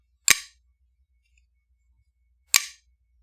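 A Trevor Burger LEXK CFL drop point folding knife gives two sharp, isolated clacks about two seconds apart as its blade snaps open or shut, each a crisp thunk with a short ring-off and near silence in between.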